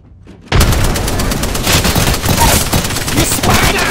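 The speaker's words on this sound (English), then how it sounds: "Grenade!" A grenade blast in a video game bursts in abruptly after a quiet moment, then dense, rapid gunfire and explosions continue loudly without letup.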